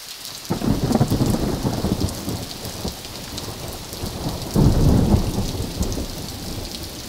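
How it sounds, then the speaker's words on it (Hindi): Heavy rain pours steadily while deep rolls of thunder rumble in two long swells, the downpour a constant hiss throughout with no voices. "अभी तक बारिश हो रही है सुबह से 6, 7, 8 लगातार बारिश हो रही है।"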